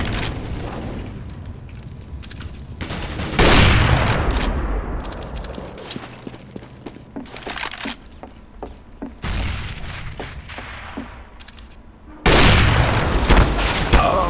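Grenade blasts and gunfire in Counter-Strike: Global Offensive, heavy booming detonations with long rumbling tails and scattered rapid shots between, loud and close.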